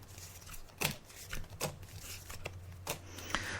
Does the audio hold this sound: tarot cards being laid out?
yes